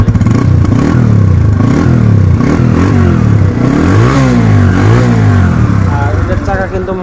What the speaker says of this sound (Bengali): আর এই পাশ থেকে যদি সাইলেন্সারের সাউন্ডটা আপনারা শুনেন,